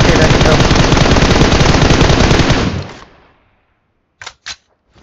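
Rapid automatic gunfire from a battle royale shooter game rattles loud and continuous for about three seconds, then cuts off, followed by two short sharp shots.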